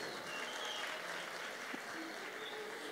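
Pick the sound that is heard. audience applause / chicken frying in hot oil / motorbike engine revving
audience applause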